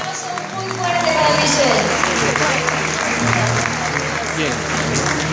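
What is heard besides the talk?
audience applause for Michelle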